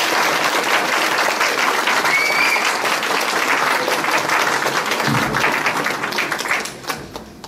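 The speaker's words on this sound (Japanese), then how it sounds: "今一度皆様大きな拍手をお願いいたします。" Wedding guests give loud, dense applause for the bride and groom, a sustained burst of many clapping hands that fades and thins out near the end.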